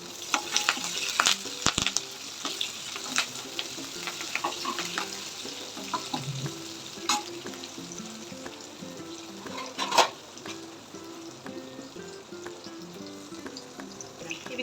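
Onions, green chillies and curry leaves fry in a pan while being stirred, with a soft continuous sizzle broken by scraping clinks of a spoon, close by and without talk.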